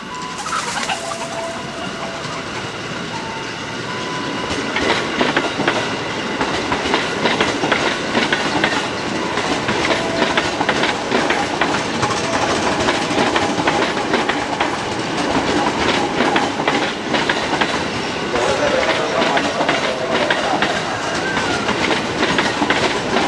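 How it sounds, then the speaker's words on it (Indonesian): An electric commuter train pulls away from Rangkasbitung station, Indonesia, bound for Tanah Abang, with rising rumble and rhythmic clickety-clack of wheels, while birds and pigeons coo and chirp nearby. "ada KRL ya dari stasiun Rangkas Bitung menuju Tanah Abang mulai bergerak"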